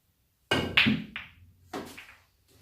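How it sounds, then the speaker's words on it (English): A pool ball knocked into a pocket after a break shot: a sharp hollow clack and thud, a short rolling rumble, then a second duller knock, close and clear in a quiet room with no talking. "Okay, so I did make the pot that time."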